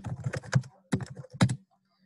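A computer keyboard is typed on at a command line, with three quick runs of close, crisp key clacks separated by short pauses, then quiet.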